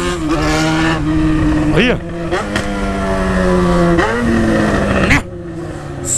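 The freshly built engine of a Chevrolet Chevette revs loud and close, its pitch climbing and dropping through several sharp throttle blips, while a voice speaks briefly over it.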